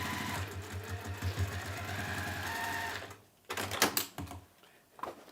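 Sewing machine top stitching a fabric washbag, a fast steady mechanical whirr with rapid needle ticking for about three seconds, then stopping, followed by a few handling clatters and bumps nearby.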